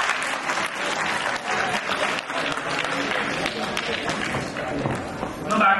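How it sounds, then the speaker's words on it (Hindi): Audience applause at a scholarship program ceremony, a dense steady wash of many hands clapping throughout with crowd noise and some talk mixed in. "बहुत तालियों के साथ मैं चाहता हूँ कि आप उनको बहुत तालियां बजाएं"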